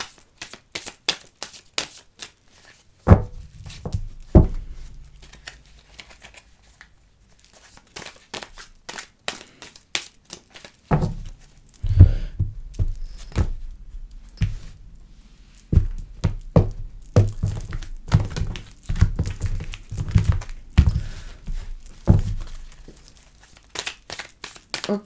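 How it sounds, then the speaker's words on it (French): Tarot cards drawn one by one and laid out on a table for a ten-card spread, a string of crisp slaps, flicks and soft shuffling taps, sparse at first and then busier, close and fairly quiet with no talking. "On va tirer 10 cartes"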